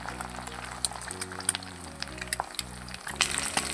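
Eggs fry in oil in a frying pan with a soft, steady sizzle and small crackles, fairly quiet beneath background music.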